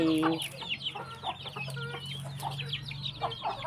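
Chickens cluck near a coop on a rural farm, a stream of short repeated calls close by over a low steady hum.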